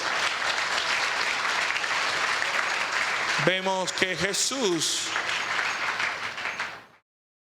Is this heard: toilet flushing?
no